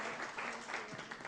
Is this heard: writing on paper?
no